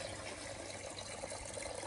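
Water from a small garden waterfall feature pours steadily as a constant broadband splash, fairly faint and close, with no voices.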